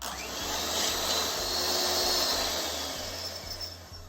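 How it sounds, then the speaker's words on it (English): Egg whites whipped toward stiff peaks with an electric whisk, a steady whirring motor drone close by, rising and then easing off slightly over about four seconds. "Next job is going to be to whisk these couple of egg whites"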